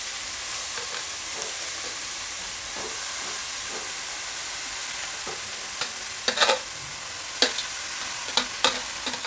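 Grated carrot and beetroot fry in hot melted ghee in a kadhai, giving a steady soft sizzle with occasional sharper crackling bursts as the shreds hit the fat and are stirred.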